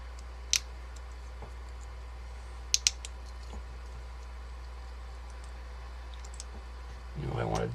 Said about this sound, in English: I'll just take off the keycaps, open up the switches